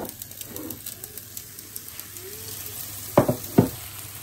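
Mushrooms frying with garlic in a pan give a steady sizzle throughout, with two sharp clatters of a utensil against the pan near the end.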